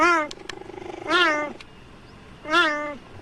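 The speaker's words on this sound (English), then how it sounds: "This is actual tape of calm, meowing cheetahs." Three high, chirping meows from a calm adult cheetah, each short and tonal with a rising-falling pitch, separated by quiet pauses and a soft rumbling purr.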